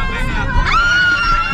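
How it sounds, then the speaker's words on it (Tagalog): A loud, high-pitched scream rises sharply over a background of crowd noise, close and brief. "Mas malakas yung sigaw kay Negi!"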